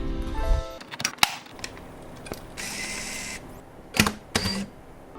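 Several sharp mechanical clicks and clacks from a Canon EOS Elan film camera shutter, with a whirring wind between them, close and fairly quiet, no talking.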